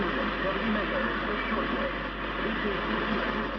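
A shortwave Radio Europe broadcast plays on the Euroband through heavy interference, with a dense, steady hiss and buzz and a muffled voice or music riding underneath.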